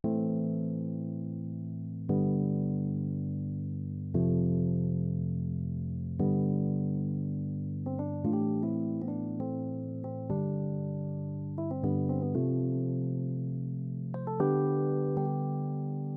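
Mellow electric piano from the Lounge Lizard plugin plays a slow amapiano chord progression, sustained chords changing every couple of seconds with light melodic fills on top.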